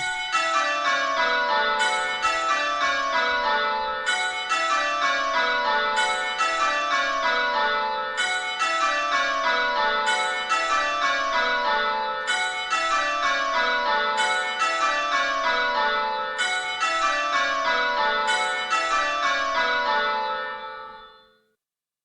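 A peal of church bells rings continuously in repeating descending rounds, bright and resonant, then fades out at the end.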